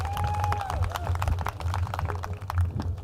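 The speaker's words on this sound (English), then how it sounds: "Give them a round of applause for allowing us to be out here today" An outdoor audience claps for the hosts at a home event, scattered hand claps under a low hum and murmur of the crowd.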